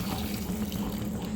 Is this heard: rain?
no